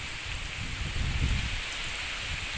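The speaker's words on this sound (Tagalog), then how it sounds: "habang mahina pa yung ulan" Soft, steady rain patters continuously during a typhoon signal 3 warning, a gentle wash of drops with a faint low rumble rising briefly in the middle.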